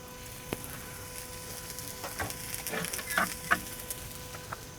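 Steaks sizzle in a pan during a reverse sear, a steady close frying hiss with occasional louder pops.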